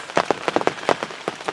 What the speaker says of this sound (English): just sitting here in the rain